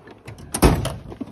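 Drawer of a Kincrome metal tool box sliding open, a brief scrape and rattle followed by a louder clunk and metallic clatter of hand tools shifting inside, close by, with no talk.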